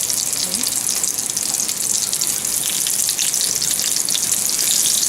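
Fish fricadelles bubbling in a deep fryer, a dense continuous hiss and sizzle of hot oil, steady and close without pause.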